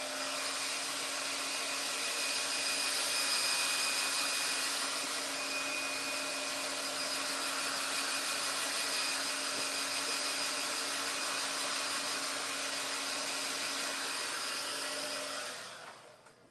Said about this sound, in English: So take my blow dryer on it just a little bit.